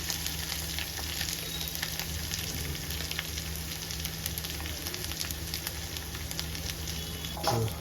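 A spice mixture for Mumbai vada pav filling dry-roasts in a pan, giving a steady, even sizzle with faint scraping. Near the end come a brief, louder clatter and stir.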